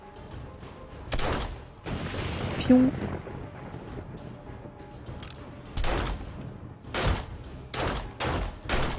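Several sharp bursts of video game gunfire from 7 Days to Die crack out at irregular intervals over a steady background, with a voice speaking briefly in German in between.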